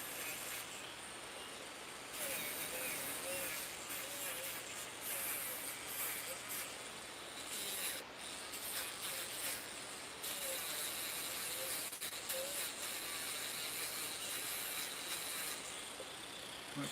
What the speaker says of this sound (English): So now I'm just trying to blend our sanding marks into the areas around it.